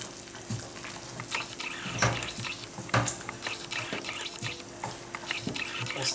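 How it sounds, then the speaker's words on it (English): A spoon stirring turkey pepper soup in a pot, producing soft, fairly quiet scraping and bubbling with a few sharper clinks against the pot, no talking. "I stir very well."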